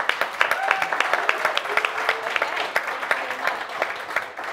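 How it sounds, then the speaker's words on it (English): Audience applause at a startup pitch event on African entrepreneurship and investment, a dense wash of clapping with sharper individual claps standing out, a few voices talking over it. "I will clap for that again"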